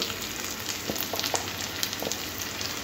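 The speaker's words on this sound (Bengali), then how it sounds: "মশলাটাকে খুব ভালো করে কষে নেব" Ginger-garlic paste with turmeric, chili and cumin powder fries in a pan for a prawn and potato curry, giving a close, steady sizzle with small crackles and light stirring taps.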